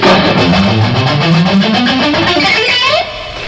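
An electric guitar plays a major scale starting on F, a rising run of notes step by step, bright and sustained, climbing steadily before the sound settles and fades.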